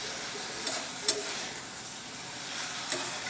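Shrimp sautéing with spices in a pan: a soft, steady sizzle with a few brief stirring scrapes, fairly quiet and without voices.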